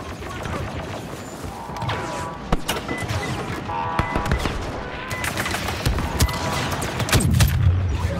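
Star Wars Battlefront II battle with dense, continuous blaster and gunfire volleys, sharp close shots and a heavy grenade blast, loud throughout with chaotic overlapping impacts and no speech.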